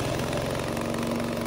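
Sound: gasoline engine of remote-controlled mower starting

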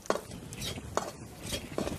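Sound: stirring atta ladoo mixture with dry fruits in pan

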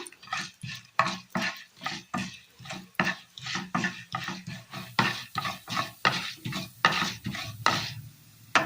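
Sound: urad dal frying and being stirred in oil

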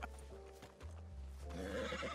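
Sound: horse neighing and hooves in a Red Dead (WildRP) video game

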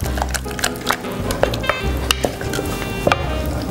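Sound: shrimp added to thickened sauce, heating in a pan

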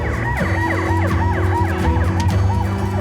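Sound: fire engine and ambulance sirens responding to a fire

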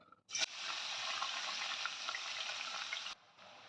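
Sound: chopped onions frying in a pan

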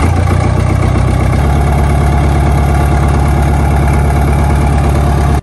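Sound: Caterpillar 215 excavator engine starting and idling

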